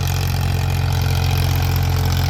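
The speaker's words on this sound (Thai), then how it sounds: "ผมชอบเสียงท่อรถไถฟอร์ดนะครับ" A Ford tractor engine idles steadily and loudly up close, with a deep, regular chugging exhaust pulse and no pauses throughout.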